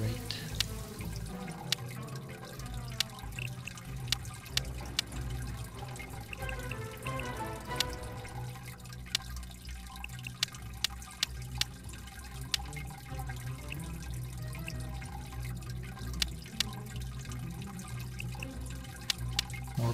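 Aquarium equipment runs in a 40-fish biotope tank, giving a steady wash of bubbling, trickling water with scattered sharp drips and splashes throughout, fairly close and continuous.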